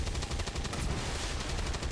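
Rapid gunfire from a shot in XCOM 2, a dense stream of steady repeated bangs holding at the same loudness for the full two seconds with no talk over it.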